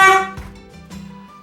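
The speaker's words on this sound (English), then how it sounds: "I'm gonna sound the foghorn." A lighthouse foghorn at Liverpool, Nova Scotia, gives one loud, brief blast that fades out quickly. A quieter low tone and a second soft swell follow.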